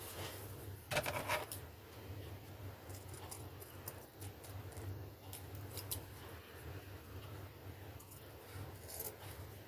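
Scissors cut through paper while an Easter basket is being made, giving a few soft, close snips and rustles over a quiet room background.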